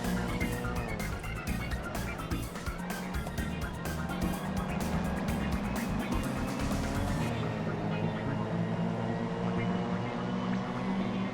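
A race car engine in a sim racing game revving hard and shifting rapidly through the gears, a loud continuous whine with repeated pitch drops at each shift, the tone settling lower near the end as a voice talks over it.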